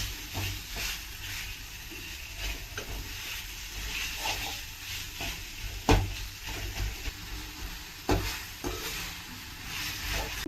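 Chopped tomato and ginger garlic paste sizzle and fry in a pan for chicken liver fry, a continuous crackling hiss broken by occasional spoon scrapes and knocks from stirring, with no talking.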